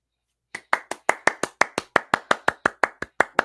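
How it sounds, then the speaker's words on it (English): A clapping sound effect triggered on a live stream: a steady run of about sixteen crisp, evenly spaced hand claps, close and fairly loud, with no talking over them. "Where's my clapping sound?"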